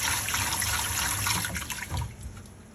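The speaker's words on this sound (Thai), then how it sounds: "นำข้าวมาล้างค่ะ" Sticky rice is washed by hand in water, making a close, steady sloshing and swirling of water that eases off toward the end.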